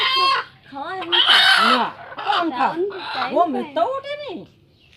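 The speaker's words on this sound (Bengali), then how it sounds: "এখন ভাবি আর আম্মু দুইটা মুরগি জবাই করছে" Chickens squawk loudly and frantically up close during slaughter, harsh distressed cries rising and falling in rapid bursts before cutting off.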